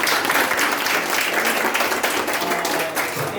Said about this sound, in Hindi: सबीना दीदी को भी तालियों के साथ।